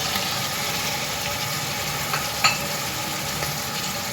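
Keema frying in a pan as potatoes, peas and tomatoes go in, a steady, fairly loud sizzle that runs throughout with one soft knock partway through.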